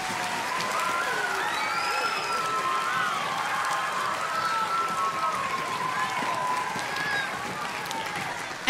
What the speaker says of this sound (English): Give them one last clap.